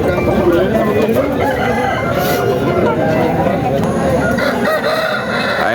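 At a Saturday country-chicken market in Mamidada, roosters crow loudly and repeatedly up close among hens clucking, with a busy crowd murmuring and people talking underneath.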